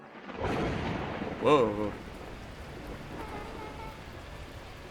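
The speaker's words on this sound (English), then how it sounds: "At that moment, the heavens opened up, unleashing torrential rain." Thunder and torrential rain in the video game Beacon Pines make a broad rumbling wash, with a brief swell partway through, while a voice exclaims and a synthesized chime sounds over the storm.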